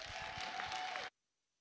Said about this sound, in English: Give Ms. Ronika another round of applause